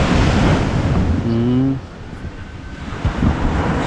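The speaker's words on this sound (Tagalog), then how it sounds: "Sa hangin to, no? Hangin lang." Loud, rough wind buffeting the microphone, easing slightly after a couple of seconds, with a faint tonal hum briefly heard beneath.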